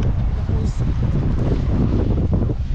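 Steady wind blows outdoors beside a bamboo grove, a continuous low rumble and buffeting across the microphone with no clear pauses, filling the whole stretch at a fairly loud level.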